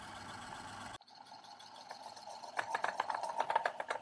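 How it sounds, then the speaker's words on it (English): A small electric motor on a condition-monitoring bench hums quietly, then a part pressed against its driving belt sets off a rapid, scratchy rubbing that grows louder in uneven rhythmic bursts. "Let us now simulate an anomaly by adding friction to the driving belt."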